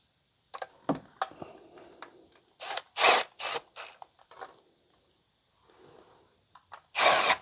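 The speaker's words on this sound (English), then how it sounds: "Right now I'm just using the gun just to sort of run them down." An impact or power gun runs down nuts during an Audi Q5 misfire repair, giving several short bursts of mechanical whirring and rattling between quieter gaps, close and fairly loud, with no talk.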